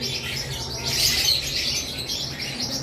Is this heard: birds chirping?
yes